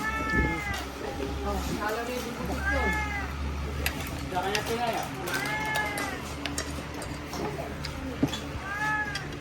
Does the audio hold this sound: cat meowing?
yes